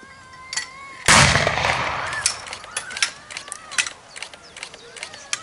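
A 60mm mortar fires a bomb at an outdoor firing display. One sharp, loud report is followed by a decaying rumble, with scattered sharp noises and voices in the background.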